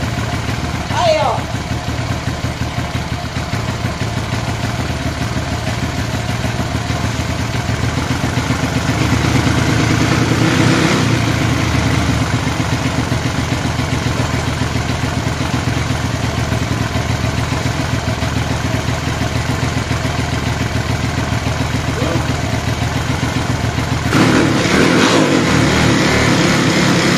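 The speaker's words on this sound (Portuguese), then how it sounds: "A moto não está vibrando nada." A 250cc two-ring motorcycle engine running on alcohol fuel idles and revs steadily and loudly up close for a long stretch, with a few short blips, while people talk over it.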